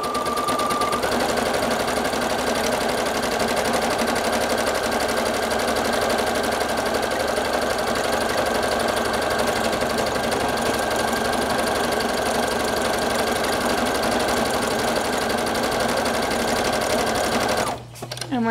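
A sewing machine runs at steady full speed for a long stretch while it stitches a buttonhole, a loud mechanical whirring hum that stops abruptly near the end.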